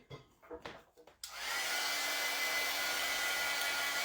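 A hair dryer drying a handmade craft piece starts abruptly after a few quiet handling sounds, then runs as a loud, steady, close-up blowing roar until the end.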